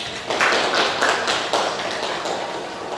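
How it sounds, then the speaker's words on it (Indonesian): Audience applause at an Islamic education event at UIN Raden Mas Said Surakarta, a dense steady burst of clapping that starts sharply and continues loud and even for a few seconds without talk. "Beri aplaus untuk Devita."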